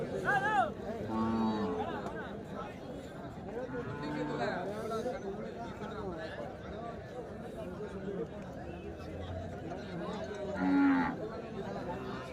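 Cattle moo repeatedly at a native cattle market in Kunthanapalli, with several drawn-out calls rising over a constant crowd hubbub and nearby chatter.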